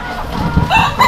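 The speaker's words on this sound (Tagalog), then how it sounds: "Ito yung Brood Stag natin, no?" Brood stag rooster of a pure high action gamefowl line crowing twice at close range, short bright calls over low farmyard rumble.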